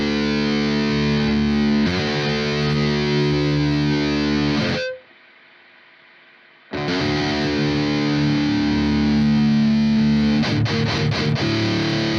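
Heavily distorted electric guitar chords through the Audio Assault RVXX V2 amp plugin's end effects ring out loud and sustained, break off into a brief near-silent gap, then return with dense, effected crunch.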